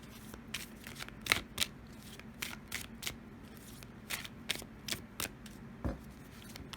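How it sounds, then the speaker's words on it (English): Tarot cards being shuffled by hand, a series of quiet, crisp riffles and flicks in an irregular rhythm, close and alone. "Let's draw just a few tarot cards to get the general energy of the week for all of us."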